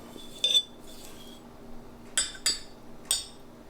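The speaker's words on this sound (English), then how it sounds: "So I'm gonna stir it up" A metal utensil stirs infused oil in a pot, giving a few sharp clinks against the metal, quiet and close, separated by short pauses.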